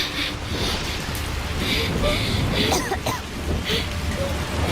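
Rain pours steadily, a broad hiss of drops striking nearby surfaces, with a few brief throaty sounds and small knocks over it, close and continuous throughout.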